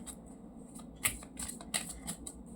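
Tarot cards are shuffled and drawn by hand, with soft riffling flicks and several crisp snaps spread across a few seconds, close by and fairly quiet, with no one talking.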